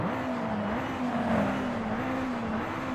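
Honda Civic Type-R engine heard from the cockpit in Forza Horizon 5, a steady mid-pitched drone whose pitch shifts slightly up and down as the revs change, alone and moderately loud.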